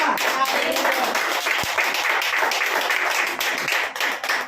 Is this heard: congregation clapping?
yes